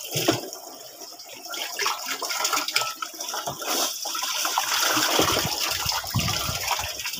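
Water gushes and splashes steadily as it is mixed with chlorine and salt solution for disinfecting, a continuous rushing pour that grows slightly louder toward the end, with no voices.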